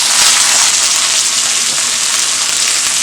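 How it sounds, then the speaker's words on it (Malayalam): Chopped onion dropped into hot oil with curry leaves while cooking an ivy gourd fry, giving a steady, loud, close broadband sizzle that holds evenly throughout with no pauses. "ഇനി ഒരു സവാള അരിഞ്ഞ് നമുക്കിതിലേക്ക് ചേർത്ത് കൊടുക്കാം."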